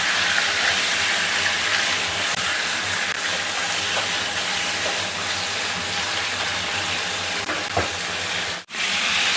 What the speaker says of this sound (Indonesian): Tumis sampai setengah matang.